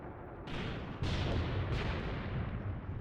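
Heavy guns fire in the Mius Front war game, three booming shots in quick succession followed by a sustained rumbling roar.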